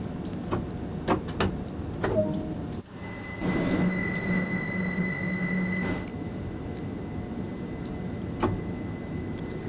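A train in the Train Sim World 2 game on the East Coastway route rolls along with a steady rumble, rhythmic clicks and a sustained tonal whine in the middle, no talk over it.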